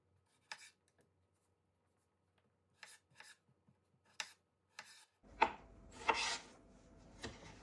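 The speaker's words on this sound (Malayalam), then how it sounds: "പിന്നെ നമുക്ക് ഈ തക്കാളി കട്ട് ചെയ്തെടുക്കാവേ" Knife chopping tomatoes on a board for a Kerala-style tomato curry: a few sparse, sharp cuts at first, then a burst of rapid, close, crisp chopping strokes, no voices.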